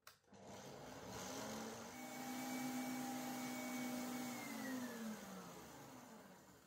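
Electric mixer whirring steadily as it beats egg whites with sugar for a tiramisu-style pavlova, a sustained motor hum that swells slightly and then eases off, with no talk over it.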